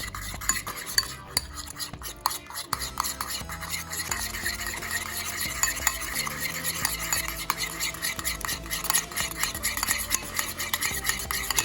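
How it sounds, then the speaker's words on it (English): A utensil stirs and mixes meatball ingredients in a bowl, with a continuous close clatter of scraping, clinking metal on the bowl and wet mixing, steady throughout with no talk. "And then we stir, we mix."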